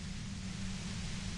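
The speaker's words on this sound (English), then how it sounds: "The explosion of static you're hearing." A short, steady burst of harsh hissing static from the video game Disco Elysium, loud and continuous with no change from start to finish.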